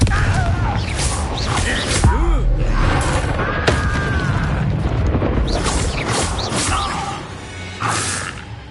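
A Confringo fire spell in Hogwarts Legacy sets off repeated loud booms and crashing blasts with whooshing bursts, mixed with game combat noise and a shouted voice.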